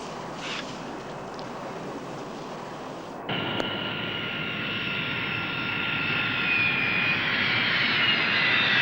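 A jet airplane engine at an airport gives a steady, moderately loud roar that shifts in tone partway through and slowly builds, with no talking.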